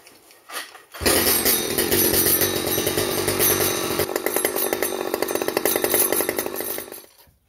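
A vintage Stihl chainsaw (009/010/011/012 series), just back from an oiler repair, snarls to life after a quiet moment and runs loud and close at a high, steady buzz with slight fluctuations before cutting off.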